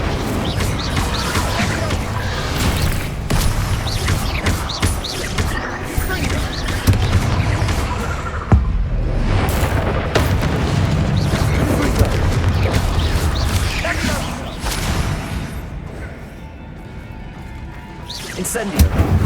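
Repeated Confringo fire-spell explosions in the video game Hogwarts Legacy, with dense booms and crashes layered over continuous loud combat noise and a voice speaking throughout.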